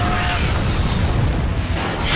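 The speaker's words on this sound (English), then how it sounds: "A couple of tank shots go down." Heavy booming tank cannon fire in a StarCraft match, loud dense low rumbling blasts running together with no talk.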